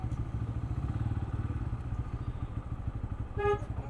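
A motorcycle engine runs steadily up close in the parking area of the Dhaka Bike Show, with a throbbing low rumble throughout and a short horn toot near the end.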